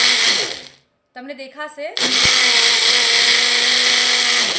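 A blender whirring mayonnaise in short bursts, Jain vegetarian and made without egg: a loud motor fades to silence, restarts in a sputtering surge, then runs at a steady high whine while a voice speaks briefly over it.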